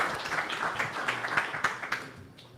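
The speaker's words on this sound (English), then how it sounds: "Big round of applause, everyone." Applause for a hackathon team at a live final demo event: steady, moderately distant clapping from a crowd, sustained throughout with individual claps poking through.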